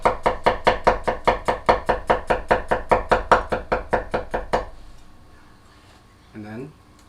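A Cangshan Chinese chef knife slices garlic on a cutting board in a rapid, steady run of about twenty crisp, close knocks, then stops, leaving quiet room tone and a brief low murmur.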